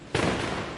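A firecracker at a village festival goes off in one sudden sharp burst followed by a short crackling tail, loud and close.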